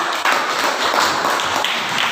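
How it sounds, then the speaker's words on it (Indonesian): A junior high school classroom in Toba breaks into applause, a dense patter of many hands clapping together for about two seconds with no talking. "Berikan tepuk tangan"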